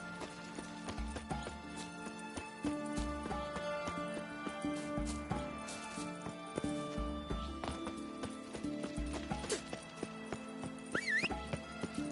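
Roach, Geralt's horse in The Witcher 3, clip-clopping at a steady trot with a brief whinny near the end, hooves close and rhythmic over game music.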